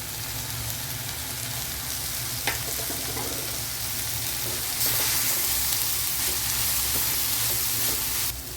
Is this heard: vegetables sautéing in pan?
yes